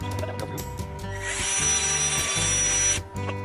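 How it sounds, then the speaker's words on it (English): A power drill with a very small bit bores a hole through wood for a cabinet, a steady whine rising for about two seconds over a background hum, then cutting off. "I'm drilling the smallest drill bit I have hole through"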